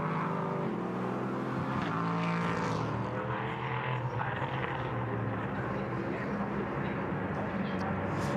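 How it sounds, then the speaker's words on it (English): Prototype race cars roar along the pit straight at the Lausitzring during a Prototype Cup Germany race, a loud sustained engine howl sweeping past with a broad background of track noise and commentary talk underneath. "We enjoy the roar of these cars as they head along the pit straight"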